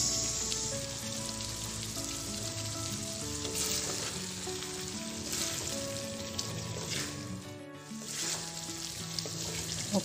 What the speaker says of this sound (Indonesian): Kemudian akan saya masukkan tomat yang sudah diiris.